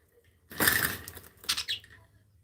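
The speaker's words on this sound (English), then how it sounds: "Don't mind that noise in the background. My birds are being pains at the moment." Pet birds fussing in the background of a quiet indoor room, a burst of fluttering and rustling followed by a couple of shorter chirpy scrabbles, fairly faint and alone.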